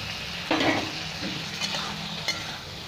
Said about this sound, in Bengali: এবার এটা আরও 2-3 মিনিট ভালো করে ভেজে নেব একসাথে আলু আর মশলা